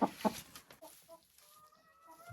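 A white hen gives a couple of sharp clucks close by, then fainter, softer vocal sounds trail off over quiet background.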